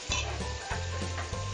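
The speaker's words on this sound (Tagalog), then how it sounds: "At igisa natin, sabay natin siyang igisa." Chili and aromatics sizzle steadily in a hot pan for a Filipino ginataang takway, with rhythmic stirring scrapes and light utensil ticks close up, and no talking.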